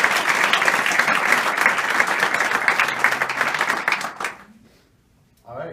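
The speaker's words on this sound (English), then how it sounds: "So let's give them a huge round of applause" A student government audience at an election announcement gives a loud round of applause that holds steady for about four seconds, then breaks off, followed by a brief faint murmur.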